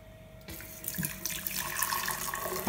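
Water starts running from a tap into a container while iced tea is being made, a steady hissing splash that begins abruptly after a quiet moment and keeps flowing to the end.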